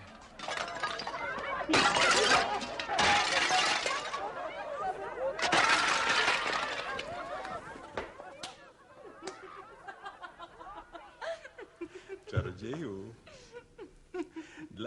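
Clay jugs being smashed, several sharp crashes and shattering bursts in quick succession, then scattered clinks and knocks with a voice speaking over them.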